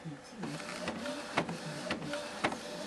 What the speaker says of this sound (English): my printer's having problems.